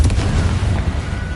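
A Confringo fire spell explodes in the Hogwarts Legacy game, a loud, dense booming blast with a rumbling tail that fades over about a second.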